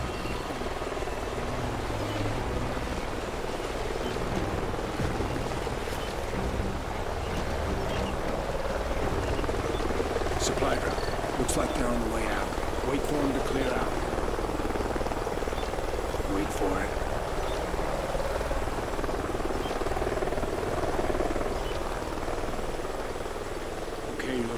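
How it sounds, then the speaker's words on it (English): A helicopter drones steadily in the Call of Duty: Ghosts mission The Hunted, its rotor and engine noise forming a dense, continuous wash that holds at a constant level throughout. "Sounds like a chopper's up ahead of us."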